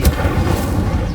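Incendio fire spell cast in the Hogwarts Legacy video game, a short loud booming burst that hits at once, then a rumbling roar that lingers for about a second.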